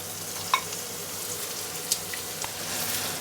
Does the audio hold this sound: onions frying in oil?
yes